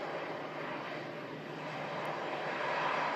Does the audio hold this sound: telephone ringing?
no